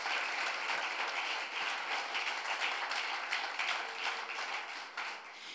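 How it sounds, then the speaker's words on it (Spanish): A church congregation applauds steadily, a dense wash of many hands clapping at a moderate distance, continuing without pause. "Si quiere aplaudir, aplauda."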